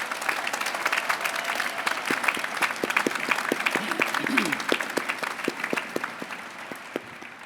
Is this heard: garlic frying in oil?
no